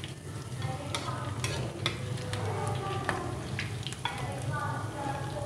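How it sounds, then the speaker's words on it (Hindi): Chicken drumsticks frying in a pan over medium heat, a steady crackling sizzle with clicks and scrapes of stirring or turning throughout, close and even in level. "मीडियम आँच पे इनको फ्राई करेंगे"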